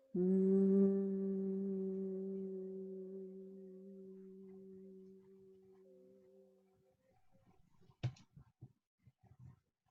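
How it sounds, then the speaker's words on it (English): A long, steady hummed tone on a slow out-breath, rich in harmonics and gradually fading, part of a calming breathing exercise; it ends and is followed by soft breathy rustles and a brief sharp click. "And humming sound out."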